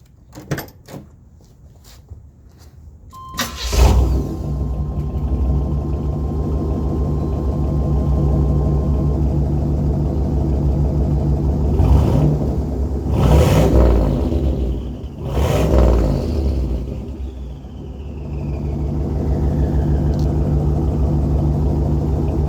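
A 1981 Turbo Trans Am runs on a dyno, its engine and exhaust settling into a loud steady drone after a few sharp knocks, then swelling through several strong revving surges.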